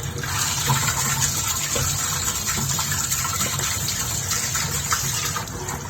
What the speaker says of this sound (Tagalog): Drain na natin ang sago